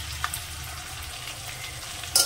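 Grated tomato tipped into hot oil with fried ginger paste hisses and sizzles in a pan for a cauliflower, potato and paneer curry, a steady frying crackle close up with a brief louder clatter at the end.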